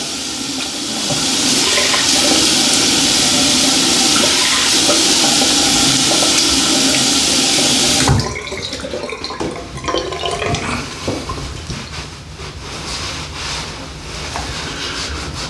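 Water gushes from a tap to rinse a safety razor, a loud steady rush for about eight seconds before cutting off, followed by quieter clinks and handling noises.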